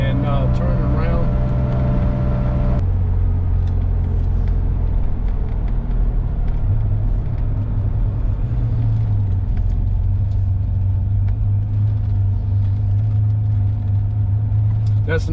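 A vintage Porsche 911 drives along a road, its engine a loud, steady close rumble that drops in pitch at a gear change early on, then holds a droning cabin hum with someone talking over it.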